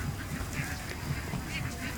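Black ducks on a farm quack in a steady, repeated rhythm close by, with several birds overlapping and a constant low background din.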